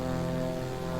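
The Lycoming engine of a Beechcraft Sierra in Microsoft Flight Simulator 2020 drones steadily at cruise power, a brief continuous hum with no talk over it.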